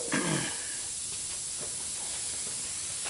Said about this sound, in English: I'm going to take this solution and I'm going to spray it up into